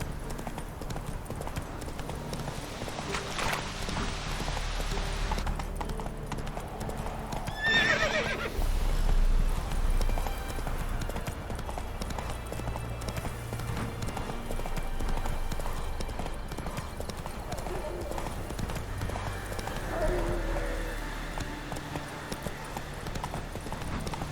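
A horse in The Witcher 3 video game gallops with rapid rhythmic hoofbeats throughout and lets out a loud, close whinny partway through, over a soft ambient game backdrop.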